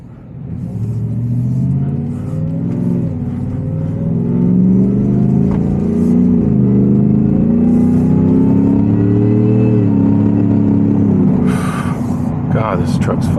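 785 HP Shelby Super Snake truck accelerating while turning onto a road, a loud steady engine rumble building and rising in pitch, heard from inside the cab with someone talking over it.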